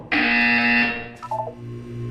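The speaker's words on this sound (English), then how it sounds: "When you hear the buzzer, look down at the floor." A buzzer in the video game Portal 2 blares as a loud, harsh, sustained electronic tone for about a second, then cuts off, followed by a few short lower beeps.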